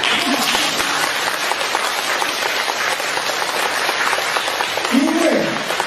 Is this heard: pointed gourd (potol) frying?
no